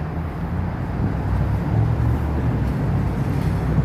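Steady, loud street traffic rumble beneath the elevated subway in Astoria, New York City, a continuous low roar of passing vehicles with no clear breaks.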